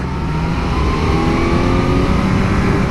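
A Kawasaki Z900 motorcycle accelerating hard on a highway, a loud close engine note rising steadily in pitch under heavy wind rush, alone and without a break.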